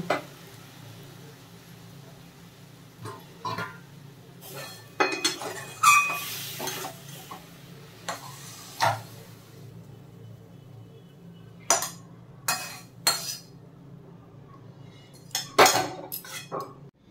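Metal cookware clinks and scrapes on a gas stove as a pot of Bengali vegetable mash is lifted off the burner, a series of sharp, close clatters and knocks separated by short pauses, with no talk.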